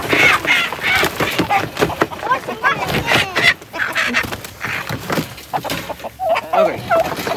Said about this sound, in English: Chickens have been together before, but it's been a little bit, so there may be a little bit of